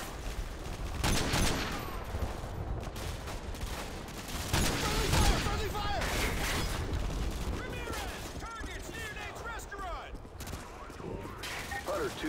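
Sustained Call of Duty: Modern Warfare 2 gunfire fills a suburban battle, with rapid automatic bursts and heavier booms overlapping continuously, with dense combat noise and radio chatter mixed in throughout.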